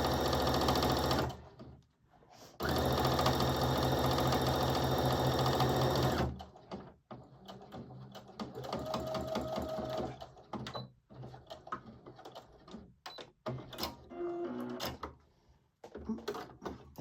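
A sewing machine runs in steady bursts stitching the folded hem of a baby onesie, a continuous loud whir for several seconds, then shorter stop-and-start runs with small clicks and handling sounds between.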